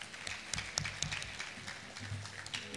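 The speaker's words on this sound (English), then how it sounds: "Let's give us applause." Audience applause at a community award ceremony, a steady patter of clapping from a crowd, moderately faint and continuous.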